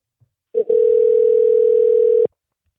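A steady telephone dial tone sounds alone for nearly two seconds while calling in for a phone interview about riding events, preceded by a brief click.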